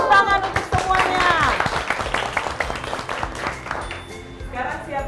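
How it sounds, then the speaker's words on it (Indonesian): A school class claps hands together in applause, a burst of brisk clapping that rises early and then thins into scattered claps, mixed with children's voices talking. "tepuk tangan untuk semuanya"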